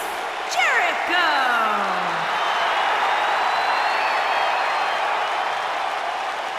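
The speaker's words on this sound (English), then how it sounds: "Get on your feet and applaud over there, Suxton." A wrestling arena crowd at a WWF event applauds and cheers a wrestler's entrance, a loud, steady roar of clapping and shouting with a few rising whistle-like tones near the start.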